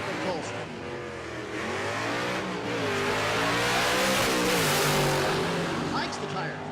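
Drag racing car launching and accelerating hard down a quarter-mile strip at a Texas motorplex during Rocky Mountain Race Week, a loud sustained engine roar rising through gear changes, with a commentator talking over it throughout.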